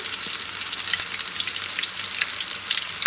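Onion pakoras sizzle loudly in hot oil over high heat, a dense, steady crackling hiss that runs unbroken and close throughout.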